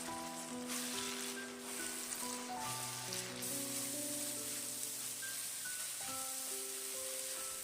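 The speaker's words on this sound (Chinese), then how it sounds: "用铲子不停的翻炒，把西红柿的水分炒干" A tomato and egg mixture is stir-fried in a hot wok with a spatula, giving a steady, soft sizzle that runs underneath louder background music.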